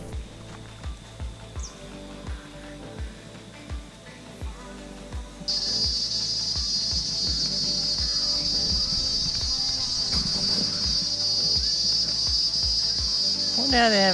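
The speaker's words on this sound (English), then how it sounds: "These little beetles make an incredible amount of noise for the size of them." Beetles in trees on Great Keppel Island give a loud, constant cicada-like buzzing drone that starts abruptly partway through and holds steady, following a stretch of quieter ambience with soft rhythmic thumps.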